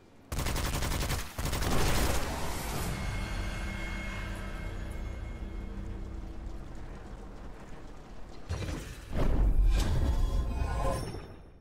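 Heavy gunfire from the dark fantasy shooter WitchFire: a dense, loud volley opens, then a long stretch of continuous rumbling noise before another strong burst of shots near the end.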